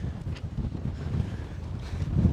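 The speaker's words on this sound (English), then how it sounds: "It's windy." Strong wind at a windsurfing slalom beach during the world championships in Hvide Sande buffets the microphone with steady, rumbling gusts, with no voices.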